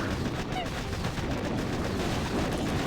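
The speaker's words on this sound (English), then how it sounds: "They're starting to get shot by the Doom Cannon" Doom Cannon firing in a video game, with dense, continuous gunfire-like bursts and explosions filling the mix at steady loudness, blurred together with background game noise.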